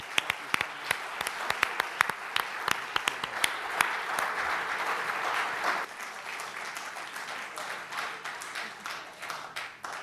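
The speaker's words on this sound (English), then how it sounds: "y'all got to give her a big round of applause" An audience applauds for Georgia McBride at an arts and entertainment forum, dense steady clapping with a few sharp claps up front, continuing fairly close for the whole stretch and thinning slightly toward the end.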